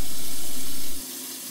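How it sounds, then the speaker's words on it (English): A tap in an apartment runs with a steady, loud hiss of water that cuts down sharply partway through, leaving a quieter trickle, with no voices. "Your apartment will come with running water."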